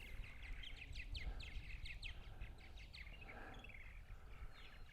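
Purple martins calling outdoors on Eastern Long Island on a spring morning: faint, busy chirps and gurgling chatter repeat through a steady background hiss.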